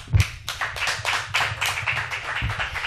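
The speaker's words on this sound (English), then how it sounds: "give him a round of applause" An audience at a live show claps for a performer, fairly close and rhythmic, a small group of hands making distinct, even claps rather than a large roar.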